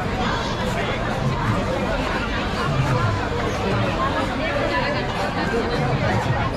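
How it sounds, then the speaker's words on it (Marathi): Dense crowd chatter fills a packed, busy stop along a Mumbai to Nashik ride, a steady, loud hubbub of many overlapping voices with no single speaker standing out. "गर्दी आहे, सॉलिड गर्दी आहे."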